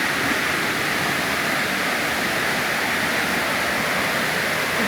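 Waterfall at Mae Kampong in Chiang Mai, Thailand, pouring and splashing close by as a loud, unbroken broadband rush that stays constant throughout, with no voices heard.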